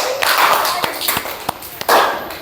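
Classroom applause: a group of students clapping hands together, a dense burst of claps with a few sharper taps, voices faintly mixed in.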